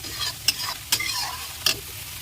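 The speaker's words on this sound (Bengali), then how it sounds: "মশলাটা আমি পাঁচ মিনিট মতন একটু কষিয়ে নেব" Spice paste for prawn malai curry stir-frying in a pan, a soft steady sizzle punctuated by three sharp spatula scrapes, close up with no talking.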